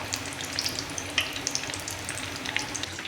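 Veg cutlets deep frying in hot oil give a steady close sizzle, with light crackles and a few scraping stirs now and then.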